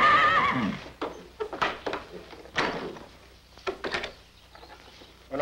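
A stallion whinnies loudly at the start, followed by scattered thuds and clops of hooves moving around, with intermittent knocks, all fairly close and without talk.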